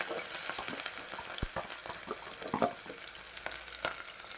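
Lengthwise-sliced onion and garlic fry in a hot pan with a steady, close sizzle, broken by irregular scraping knocks from stirring throughout.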